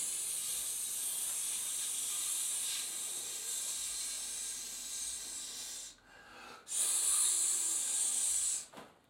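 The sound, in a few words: voice imitating a cobra's hiss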